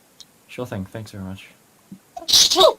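A loud single sneeze bursts out right after a brief spoken exchange between people, close and sudden.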